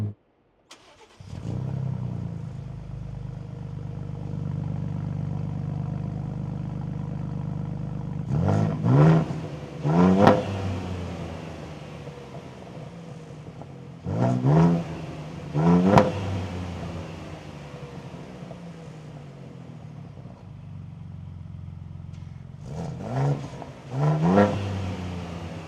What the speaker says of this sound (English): it just doesn't sound all that muscular because it's a high-pitched V6 instead of a V8.